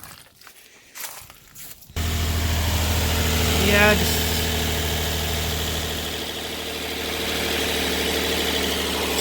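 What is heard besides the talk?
Nissan 350Z engine idling after cold start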